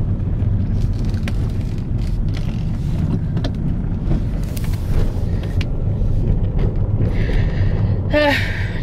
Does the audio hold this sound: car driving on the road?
yes